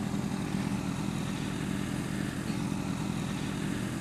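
Motorcycle engine rumbling steadily while riding close behind a 2013 KTM RC8, a loud continuous low drone with wind noise and no talk.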